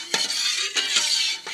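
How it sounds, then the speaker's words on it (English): A spoon stirs thick Nab Vam tapioca dessert in a pot over high heat, giving close scraping strokes against the pot in a few distinct bursts over a steady background hiss. "we're just going to continue stirring this for about 5 minutes"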